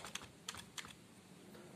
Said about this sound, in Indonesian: saya akan mengetik sesuatu